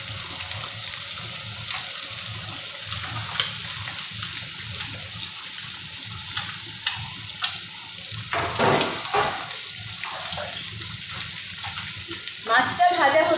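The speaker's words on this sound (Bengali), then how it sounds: "মাছটা ভাজা হতে হতে" Puti fish (pool barb) frying in a pan gives a steady, close sizzling hiss that runs throughout, with a few brief clinks and stirring noises near the end.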